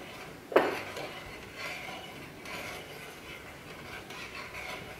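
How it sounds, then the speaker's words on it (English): A spoon stirs salt, dried herbs and pepper into vegetable stock in a pot, with one sharp clink against the metal, then soft, faint scraping and swirling close by. "Okay, we'll stir it in."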